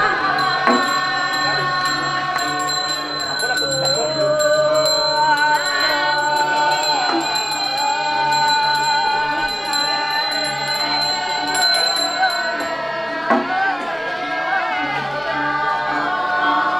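Balinese gongs and bronze percussion ring out at a temple consecration ceremony, a dense, sustained metallic shimmer of struck tones that continues throughout at close range.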